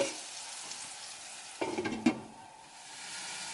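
Teriyaki chicken sizzling in a pan as the lid goes on, a steady close hiss of frying with a brief clatter and knock of the lid midway, then quieter muffled sizzling.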